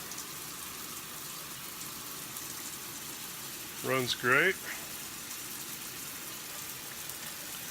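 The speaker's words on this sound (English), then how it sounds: "Here's the shower head working." A rain-style shower head on a four-function shower panel sprays water in a faint, steady hiss, with someone briefly speaking over it midway.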